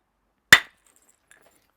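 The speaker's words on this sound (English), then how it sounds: "Sometimes there might be a bit that's better removed with a hammer stone because it just needs that extra" A single sharp, loud crack of a hammer stone striking flint while knapping a Neolithic-style axehead, followed by near silence and a faint small tick of falling chips.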